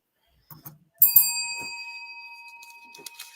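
A small bell is struck once, giving a bright ding that rings on and fades slowly, with a few soft bumps and handling noises around it.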